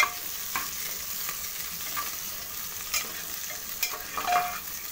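Onions and green chillies fry in a pan with a soft, steady sizzle, punctuated by a few scraping stirs of a spoon, fairly quiet and close with no voices.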